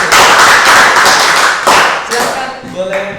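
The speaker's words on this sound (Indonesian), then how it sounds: "kita tepuk tangan dulu untuk paslon nomor 1" Audience applause for election candidate pair number 1 at a talk show event, a loud sustained patter of many hands clapping that fades toward the end as voices come through.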